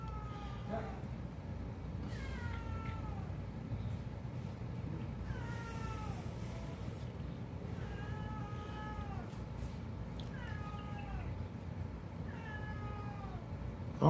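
A handicapped cat meows repeatedly, faint and somewhat distant, with about six drawn-out cries at irregular intervals over a low, steady background hum.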